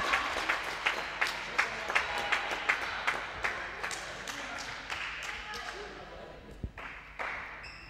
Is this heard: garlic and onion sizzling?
no